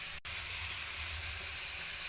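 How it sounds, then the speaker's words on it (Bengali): Broccoli and green peas hitting hot frying spices in a pan, giving a steady close broadband sizzle with a low rumbling undertone, after a brief dip at the start. "মশলাটা ফুটে গেলে আমরা ওতে ব্রকলি আর কড়াইশুঁটি দিয়ে দিচ্ছি।"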